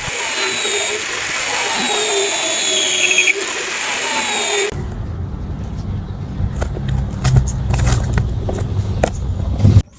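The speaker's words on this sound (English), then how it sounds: "During the grinding process, simply aim the grinder at the outside of the tire, then slowly scrape until a fine black powder appears." A grinder scraping the outer rubber layer of a used tire, first a high whining squeal with tonal harmonics, then a rougher low rumbling grind with scattered scraping clicks, loud and close.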